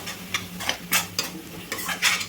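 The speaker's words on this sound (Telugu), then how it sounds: "ఆయిల్ సపరేట్ అయిన దాకైతే వేపుకోవాలి చూడండి మొత్తం వేసేసుకున్న తర్వాత మంచిగా కలుపుకోవాలండి" Spiced masala paste for paneer butter masala fries in oil while being stirred, with bursts of sizzling and repeated scraping strokes of a spoon against the pan, close and fairly loud, no talking.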